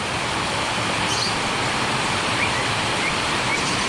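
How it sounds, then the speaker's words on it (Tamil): Heavy night rain pours through the green mesh of a cockatiel aviary, a dense, steady rushing wash of water that stays loud and unbroken throughout. "இந்த க்ரீன் மெஷ்லேருந்து தண்ணி இங்கே ஊற்றுது"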